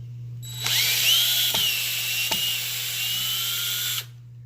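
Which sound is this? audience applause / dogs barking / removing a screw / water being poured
removing a screw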